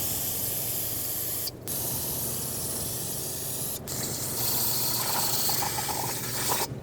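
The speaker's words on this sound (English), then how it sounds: "It's okay to spray brake parts cleaner in this side of the oil filter housing." Brake parts cleaner sprayed into the oil filter housing of a 2012-2017 Toyota Camry 2.5L, a loud close continuous aerosol hiss broken by two brief pauses, no voices.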